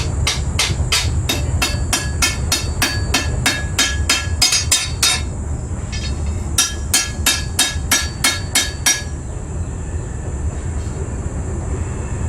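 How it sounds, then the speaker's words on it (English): A hammer strikes a heated steel sword blade in rapid, ringing, evenly spaced blows, about a dozen in a run, a pause, then another quick series, loud and close. "while I'm heating it up, I just assume use a hammer"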